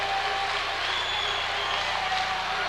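Spartan basketball crowd in a gym applauding and cheering a defensive steal at a 1995 championship game, a steady wash of clapping and cheering throughout.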